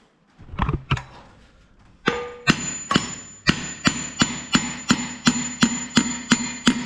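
Hammer blows on the cylinder of a Wallis and Steevens steam engine during restoration and alignment: a few softer taps, then a steady run of about eleven loud, ringing metallic strikes, close and evenly spaced.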